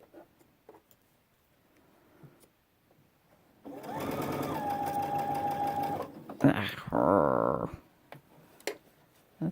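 Sewing machine stitching the bottom of a fabric backpack, a couple of seconds of steady whirring followed by short bursts, with quiet rustling and handling noises around it and no clear talk.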